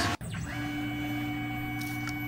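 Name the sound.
CNC mill spotting holes with WD-40 and air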